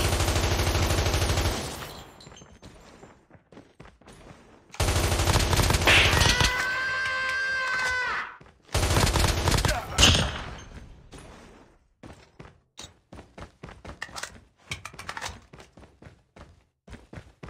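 Rapid bursts of AK-117 automatic gunfire in a first-person shooter, loud and close, with dense volleys separated by pauses, plus scattered single shots and clicks.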